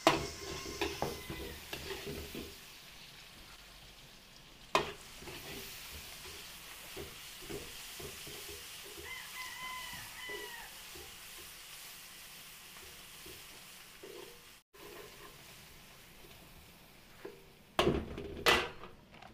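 Garlic and onion sautéing with margarine in a pan for a Filipino dish, a steady low sizzle with irregular scrapes and stirring clatter, a louder clank near the start and a burst of pan knocks toward the end.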